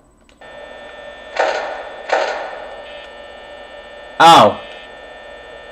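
A phone call in Five Nights at Freddy's hanging up: a steady electrical hum, two muffled clunks, then a sharp, loud click-and-clatter as the line cuts off. A voice briefly exclaims.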